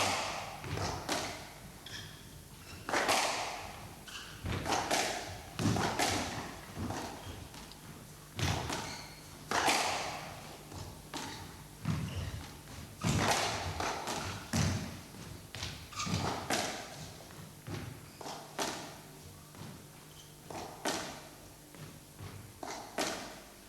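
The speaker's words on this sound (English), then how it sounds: "Lovely drop shot, Hunt gets it, and another, never get that one" Squash ball hits during a 1976 Irish Masters rally, a steady series of hollow thuds and cracks off the walls and racquets, moderately distant in a court with crowd ambience.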